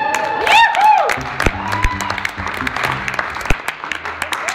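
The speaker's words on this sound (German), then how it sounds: "Beifall für diese Geschichte." An audience at an acoustic concert applauds, with brief whoops and cheering, while a voice speaks over the dense clapping.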